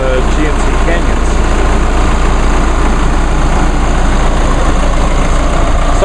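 A diesel engine in a Chevy Colorado or GMC Canyon pickup idles with a steady, loud, low rumble that holds unbroken throughout, with a faint continuous whine above it.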